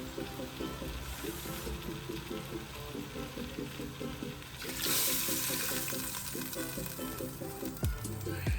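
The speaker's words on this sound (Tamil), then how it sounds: "மீதியை நான் தண்ணி சேர்த்துக்க போகிறேன்." Water pours steadily into a pot of coconut milk for cooking coconut rice, a broad rushing splash that swells louder midway, over a patterned background hum and a few clinks near the end.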